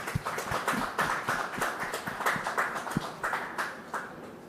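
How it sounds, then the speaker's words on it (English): Audience clapping for a speaker at a talk on responsible quantum AI and security, a moderate patter of individual claps with distinct, uneven hits, fairly close and heard without speech. "A big round of applause for Sachin"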